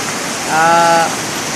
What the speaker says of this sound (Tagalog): kusog ang ulan nga makita ninyo ang tubig sa kalsada